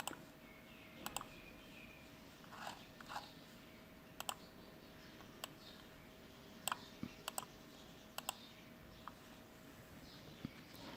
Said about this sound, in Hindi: आई थिंक मेरा माउस जो है ये प्रॉब्लम कर रहा है, ये डबल क्लिक कर देता है